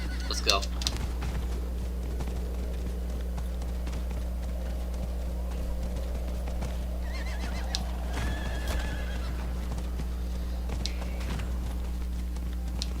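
A horse in Diablo 4 whinnies and hooves clatter over a steady low hum, with further brief neighs and scattered movement sounds through the stretch.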